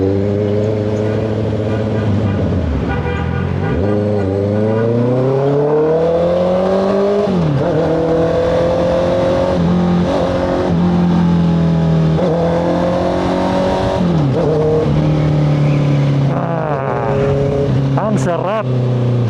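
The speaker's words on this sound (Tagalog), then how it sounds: "Miss ko nang magpatakbo ng big bike, umuomba." 2025 Honda CBR650R motorcycle ridden at night, its engine revving up and down through repeated rising and falling sweeps, loud and close with wind roar, and a rider speaks briefly over it.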